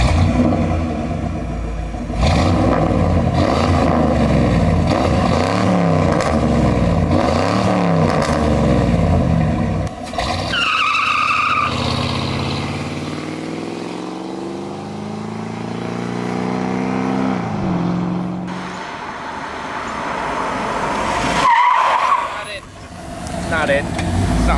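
A 1989 Mercury Grand Marquis with lowered suspension revs its engine up and down in repeated swells, a deep growl that rises and falls, with a person talking over parts of it.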